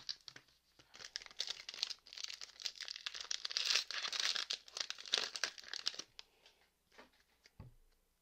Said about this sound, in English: Let's open up the 10 boost packs of evolution